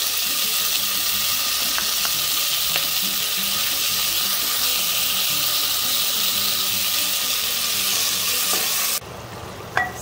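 Tomatoes cook down in a pan with sautéed onions and garlic, giving a loud, steady sizzle that runs unbroken and then drops away sharply near the end.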